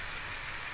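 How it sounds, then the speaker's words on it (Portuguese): Steady rain falling, a dense even hiss of drops hitting surfaces that runs unbroken and fairly faint throughout, with no voices. "Tá chovendo aqui, galera."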